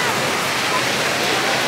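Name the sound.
waves on St. Pete Beach, Florida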